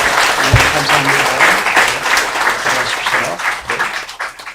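A church congregation breaks into dense, sustained applause in a sanctuary. Many hands clap loudly and evenly throughout before tapering at the end.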